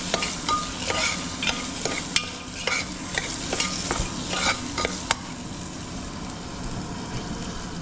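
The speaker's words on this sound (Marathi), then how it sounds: "आता गॅस कमी केलाय, तोपर्यंत मी कढीपत्ता राहिला टाकायचा, तो टाकायचा" Curry leaves hit hot oil in a pan for bajra khichda, sizzling loudly while a spoon scrapes in quick, regular stirring strokes for about five seconds before the sizzle settles into a steady hiss.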